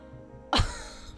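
A single sharp cough bursts out midway, loud and close, with a brief rough tail fading into quiet room noise.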